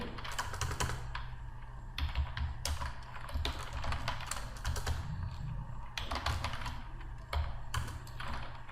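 Rapid bursts of light key clicks on a computer keyboard as a cover letter is typed, quiet and close with short pauses between runs of keystrokes.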